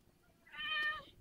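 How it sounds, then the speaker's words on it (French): A house cat gives a single drawn-out meow lasting under a second, fairly close and moderately loud, over a quiet room with no talking. "c'est mon chat, c'est à chaque fois"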